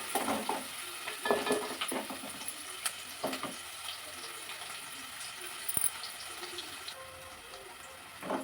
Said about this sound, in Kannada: ಸ್ವಲ್ಪ ಎಣ್ಣೆಯಲ್ಲಿ ಸ್ವಲ್ಪ ಈರುಳ್ಳಿ ಚೆನ್ನಾಗಿ ಫ್ರೈ ಆಗಬೇಕಿದು.